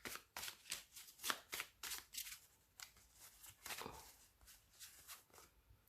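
Iridescent oracle cards are shuffled and drawn in quick, soft riffling bursts, a faint, close papery flutter repeating in an uneven rhythm.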